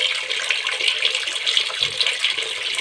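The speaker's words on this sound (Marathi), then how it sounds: "मग बघा पाणी कसं जाते खळ खळ खळ खळ खळ पूर्ण पाईप घेऊन जाते माझं" Water gushing steadily out through a pipe into a home pool, a continuous broad rushing splash that stays even and fairly loud throughout with no voices.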